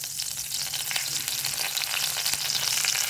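Bay leaf and cinnamon frying in hot oil left over from frying paneer, a steady close sizzle with a faint low hum running under it and no voices.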